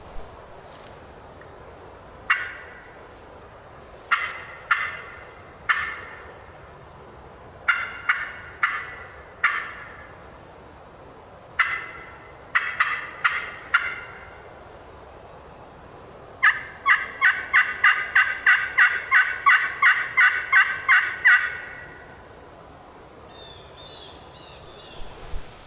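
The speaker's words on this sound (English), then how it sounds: "I think I'm starting to hear phantom gobbles." Wild turkey gobbling in Mississippi woods, with repeated gobbles in short clusters separated by quiet pauses, then a longer rapid series of gobbles, moderately distant against a still forest background.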